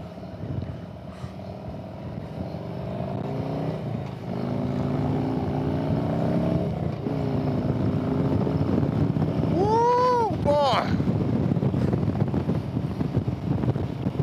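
A 2020 Harley-Davidson M8 motorcycle with 4DXtreme slip-on exhaust pipes rides on the road, its deep rumbling engine tone shifting in pitch under heavy, constant wind buffeting.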